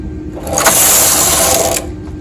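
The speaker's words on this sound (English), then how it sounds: "grab the sewing thread and knit 1 row" A knitting machine carriage slides across the needle bed to knit a single row of tuck stitch with sewing thread, a loud, close whooshing rattle lasting just over a second with quiet before and after.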